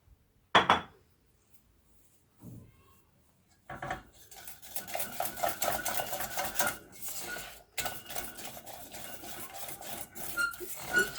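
A spoon stirs chocolate soufflé mixture in a bowl, giving close scraping and clinking against the dish in irregular bursts after a near-silent start with one sharp clink.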